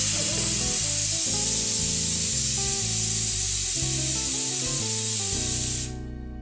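A pressure cooker of mutton curry on the stove gives off a loud, continuous steam hiss that runs unbroken for several seconds over background music, then cuts out near the end.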